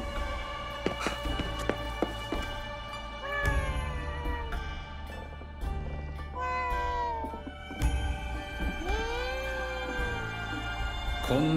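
A cat meows repeatedly in Ghostwire: Tokyo, several drawn-out, rising and falling calls spread across the stretch, close and clear over a low ambient game backdrop, with no voices.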